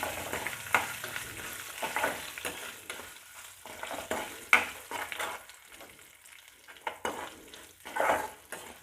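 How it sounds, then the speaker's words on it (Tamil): Curry leaves, green chillies, chana dal, urad dal, coriander seeds and cumin frying in a pan for chutney, a light sizzle with intermittent scrapes and clinks of stirring at close range, no talking. "இப்போ இது எல்லாமே நல்லா பொரிஞ்சிக்கிட்டுருக்கு"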